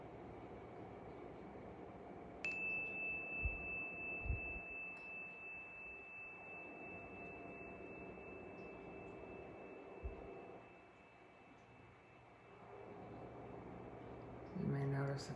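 A steady, pure meditation tone like a sine wave starts after a couple of seconds and holds without a break over a quiet, low hum, fairly faint and unchanging.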